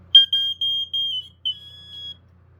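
A vintage Smokey Stover 4202 hardwired smoke alarm's piezo sounds a piercing high-pitched tone in a string of short repeated beeps, then a longer wavering blast, loud and close with no talking.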